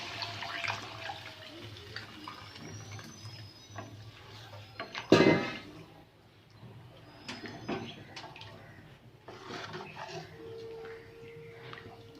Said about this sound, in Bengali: এবার আমি ডাল সিদ্ধটা দিয়ে দেব।